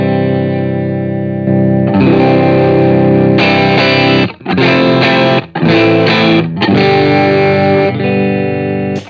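Electric guitar on the middle pickup played through a Line 6 POD HD500x with low drive and high output, loud overdriven chords with short breaks and sharp pick attacks, alone and close.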